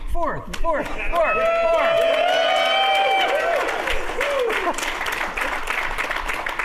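A room full of people cheers and whoops loudly, high excited voices rising over a steady wash of clapping that carries on throughout.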